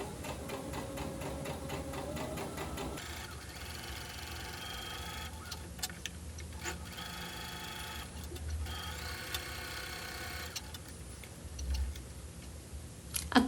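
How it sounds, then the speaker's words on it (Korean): Sewing machine stitching two outer fabric pieces together for a pouch, a steady rapid mechanical whirring and ticking that runs continuously, with brief pauses and a few soft knocks near the end. "겉감 2개를 포개어 합봉해 줄게요. 윗부분을 제외하고 노루발 간격으로 재봉할게요"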